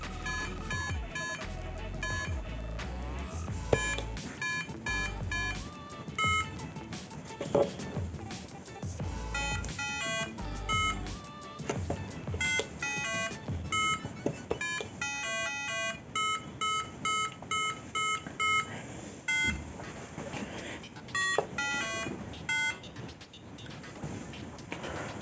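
Electronic beeps and short tone melodies from a 1989 Smart Start Speller children's toy, a string of clipped chimes and buzzes played quietly and alone.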